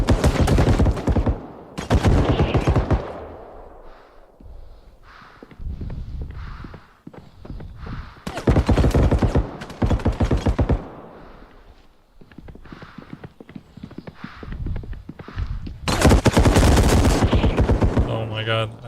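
Rapid bursts of gunfire from the Skald video game ring out loud and close in several clusters, with a voice talking over the shooting in between.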